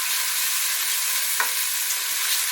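Ox cheek curry sauce made with Chief brand curry powder fries down in a pan, giving a steady, close hiss of sizzling with one brief soft stir or scrape partway through.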